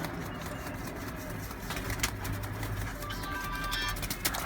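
Soft pigeon cooing rises and falls amid a busy, noisy background of rustling and low hum, with scattered flutters and faint chirps.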